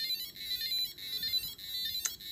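Homemade alarm clock project buzzing at its set alarm time, a faint, steady high electronic tone pulsing in short repeated bursts, with no talk.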